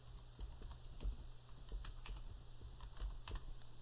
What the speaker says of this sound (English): What I'm looking for is something about last unit cost, so I'm going to type that in.